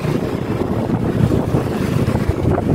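A Suzuki Smash motorcycle running while being ridden, heard as a constant low rumble mixed with heavy wind buffeting against the microphone, loud and close throughout with no talking.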